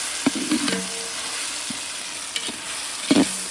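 Food frying in a pan is stirred with a utensil, giving a constant soft sizzle under a few sharp scrapes and clinks against the metal, close and fairly quiet.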